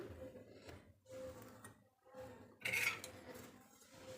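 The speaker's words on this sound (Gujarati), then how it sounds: "બંને વસ્તુને મિક્સ કરી લઈએ" A spoon mixes milk powder and milk into a chocolate sweet mixture for a Diwali treat, giving faint scraping and a brief brighter clink near the end, all fairly quiet.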